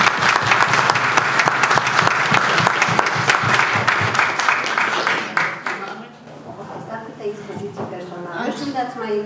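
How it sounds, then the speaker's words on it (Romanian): An audience at a folk costume event gives loud, dense applause for about six seconds, then the clapping fades out and a person starts talking nearby. "Vă rog să o aplaudați."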